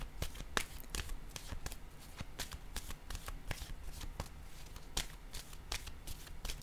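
Tarot cards being shuffled, handled and laid down one after another, a quiet run of soft riffling flicks and crisp snaps with a few sharper slaps as cards land, close by and alone with no speech.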